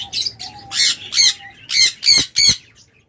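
Caged pet lovebirds let out loud, harsh squawks close by, about six rasping bursts in quick, uneven succession, with no talking.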